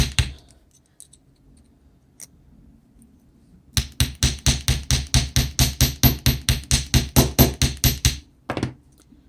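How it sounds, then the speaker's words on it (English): Ends of metal wire are struck by a hammer: a few scattered taps, a pause, then a steady run of about twenty ringing blows in quick, even rhythm. "And again, you hammer these both ends."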